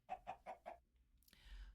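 A baby chicken in Minecraft gives four quick, evenly spaced clucks, close and clear, followed by a brief rustling game sound.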